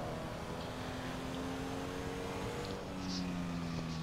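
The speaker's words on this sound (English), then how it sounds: "Random car." Car driving by in the video game GTA V Online, a steady engine hum with a faint whine rising slightly toward the end, moderately close, with no talk.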